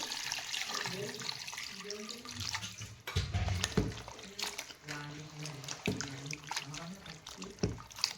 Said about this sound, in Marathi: स्वच्छ 2-3 पाण्याने धुवून काढते.